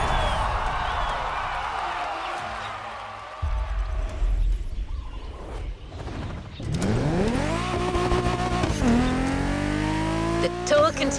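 A Mercedes-AMG One driven in The Crew Motorfest, its engine droning and then revving hard through rising gear changes with some tire noise, loud and close, while a voice talks over it.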